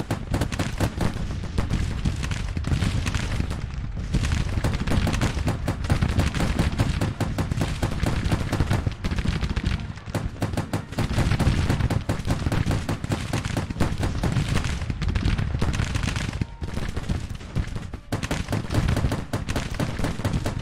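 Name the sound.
machine gun fire in Grand Tactician: The Civil War video game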